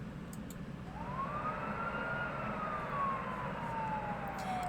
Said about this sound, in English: As the sirens fade into the distance,